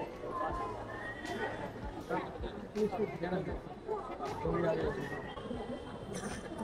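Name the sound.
horse neighing at street art festival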